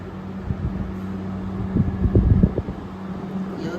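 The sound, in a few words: 2023 General Electric window air conditioner, low fan only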